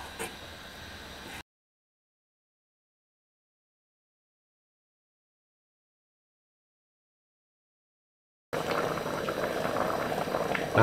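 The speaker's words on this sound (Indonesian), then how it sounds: "Kita masak sampai mendidih ya." Bruinebonensoep, a Dutch brown bean soup with small chunks of tender meat, boils in a pot. A steady, soft bubbling hiss is heard at the start and again at the end, separated by a long stretch of silence.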